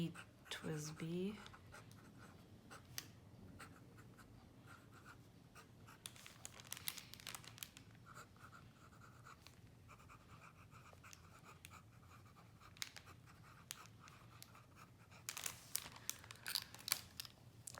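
A TWSBI 580 fountain pen writes on paper, its faint nib scratches and strokes coming in short bursts under a person talking, with a louder crinkle near the start.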